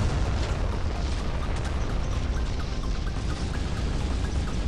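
Continuous heavy explosions and booming naval gunfire from the Modern Warships game, a dense loud rumble with repeated blasts and no pauses, filling the whole stretch.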